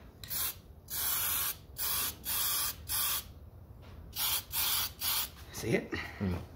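Spray painting car wheels: a series of loud, close hissing bursts from a spray can or gun, each lasting about half a second to a second and separated by short pauses, with a faint voice near the end.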